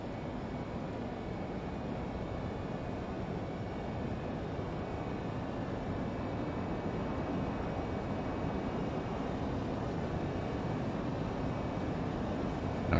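LearJet jet engines in a flight simulator spool toward takeoff power, a steady broadband roar that holds constant and builds slightly in level throughout, with no voices.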